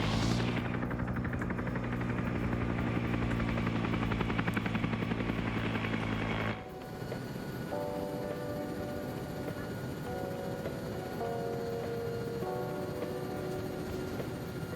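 Helicopters flying in formation in a Vietnam-era multiplayer combat video game, a loud steady rotor drone that cuts off abruptly midway, leaving quieter engine hum and tonal whines.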